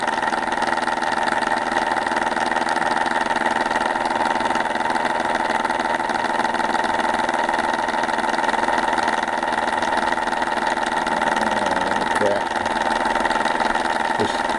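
A small ORBO-style motor runs steadily at roughly 900 RPM, a continuous even mechanical drone with a slight buzz, close and loud throughout with no talk over it.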